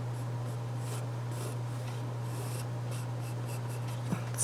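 A soft 3B pencil moves over paper in a quiet, steady scratching, with light repeated strokes over a constant low hum.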